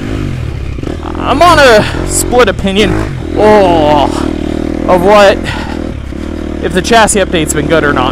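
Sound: 2023 Husqvarna FC 250 dirt bike being ridden

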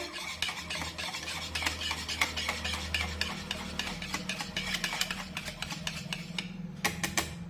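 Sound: stirring millet flour dosa batter

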